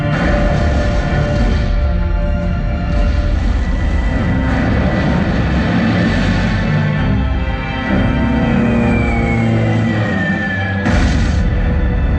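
A museum exhibit recreating the Japanese air attack on the carrier Yorktown plays a loud, close aircraft sound effect: droning propeller engines roar continuously, with a descending whine and a sudden burst near the end.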